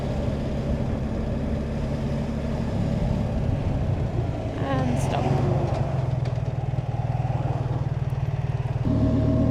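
Trucks drive along Georgia's Military Road toward the border. A continuous low engine drone and traffic rumble fills the scene, a heavier engine note rises near the middle, and a brief higher whine cuts through partway.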